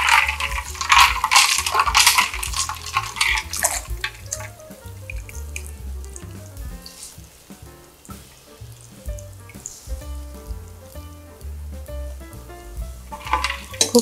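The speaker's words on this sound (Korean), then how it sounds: "한번 탱탱하게 이렇게 헹궈주세요" Cooked noodles are rinsed in cold water with ice, giving close, continuous splashing and sloshing that is busiest at the start and fades toward a gentler trickle.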